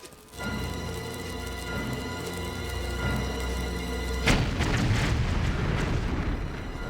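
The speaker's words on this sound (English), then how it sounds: "Caused some explosions. And the ceiling broke away." In the video game Tomb Raider Level Editor level Dracula's Return, a steady mechanical hum runs for several seconds, then a loud cannon blast erupts into a rumbling, crackling explosion that lingers as a ceiling breaks away.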